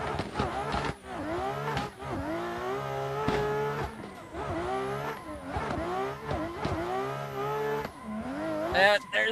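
A BMW M4 in a racing video game revs hard through repeated rising engine pulls and gear changes, with tire squeal mixed in, loud and close, while someone talks over it.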